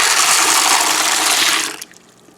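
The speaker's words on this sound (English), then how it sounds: "I'm going to mix them together like this." Water poured or stirred into dry beans and grains, four cups of water with a holiday blend of grains and beans, a loud steady rushing gush for about a second and a half, then stopping abruptly with a faint splash.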